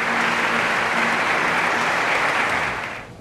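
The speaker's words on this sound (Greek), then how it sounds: "Η αναφορά στον Δημήτριο προκάλεσε το θερμό χειροκρότημα του εκκλησιάσματος" Warm, sustained applause from a standing church congregation at an archbishop's enthronement, a dense, loud wash of clapping that tapers off near the end.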